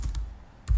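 A few quick keystrokes on a computer keyboard, close and crisp, with two taps at the start and another right at the end, separated by a short quiet gap.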